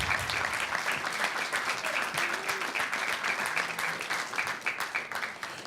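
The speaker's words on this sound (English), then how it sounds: "We'll give you a big round of applause." Steady audience applause at a school district board meeting, continuous mid-level clapping from a room full of people with no talk over it.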